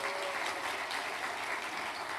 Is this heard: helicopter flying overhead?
no